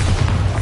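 A Bombarda spell blast in Hogwarts Legacy, a single heavy low boom that rumbles steadily through the whole short moment, loud and close with no talk over it.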